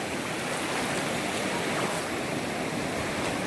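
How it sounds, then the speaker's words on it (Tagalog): River water flowing steadily during a tilapia fishing outing, a constant broadband rush with no pauses and no talk. "kakarating lang namin dito sa ilog"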